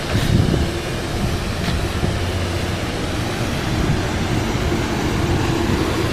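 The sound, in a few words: train passing on the Hudson line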